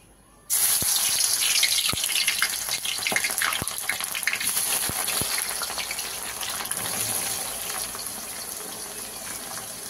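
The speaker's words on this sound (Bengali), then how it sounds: "আমার তেলটা গরম হয়ে গেছে, এবার আমি পেঁয়াজগুলো দিয়ে দেবো" Chopped onions drop into hot oil for a chicken biryani and a loud, steady sizzling hiss bursts in abruptly, continuing without a break.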